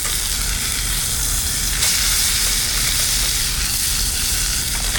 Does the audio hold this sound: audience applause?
no